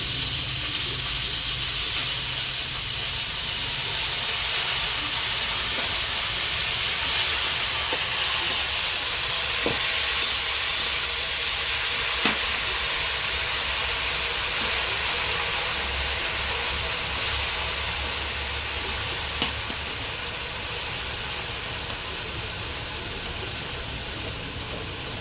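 Leafy greens frying in a pan with onion and chilli give a loud, continuous hissing sizzle for about 25 seconds, with occasional faint pops and clicks and no speech.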